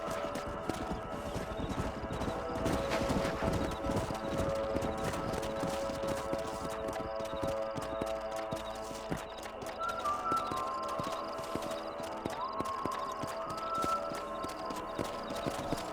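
Horses trot in the video game Red Dead Redemption, a steady stream of hoof clip-clops with occasional whinnies under a constant faint background.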